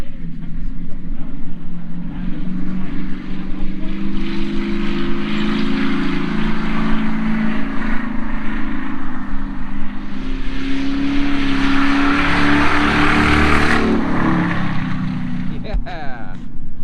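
Car driven hard in tight fast circles, its engine droning loudly and steadily throughout with tire and wind noise, rising toward a louder peak near the end.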